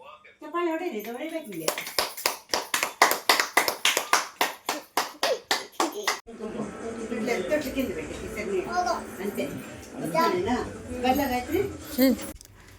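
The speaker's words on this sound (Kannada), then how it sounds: "ಚಪ್ಪಾಳೆ" A group of people claps hands at a simple family home ceremony for a baby's eleventh-day bath and cradle rite: a brisk run of sharp, close claps that stops abruptly, followed by talk and chatter.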